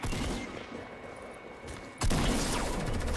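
Gunfire in the Fortnite video game, a loud burst of rapid shots cutting in sharply partway through, following a quieter stretch of game ambience.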